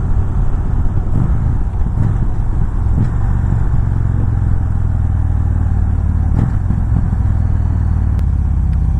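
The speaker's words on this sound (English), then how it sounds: "this bike is awesome. It has that nice rumble, that rolling thunder sound." A loud, deep 2017 Victory Magnum motorcycle engine rumbles steadily throughout, close by, with a constant low throb and faint clatter.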